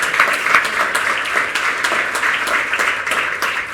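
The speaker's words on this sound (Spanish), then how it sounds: "sí dedicarte un gran aplauso por parte de todos antes de las conclusiones" An audience applauding at the end of a talk at a conference, a dense steady wash of many hands clapping, loud and sustained throughout.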